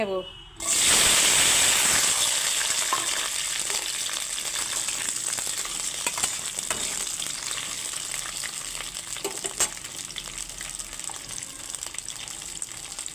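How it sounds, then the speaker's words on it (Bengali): Thinly sliced okra hits hot oil in a wok with a sudden loud burst of sizzling that settles into a steady close crackle, with a few stirring clicks and no talking. "এখন আমি ভেন্ডিগুলো ভেজে নেব"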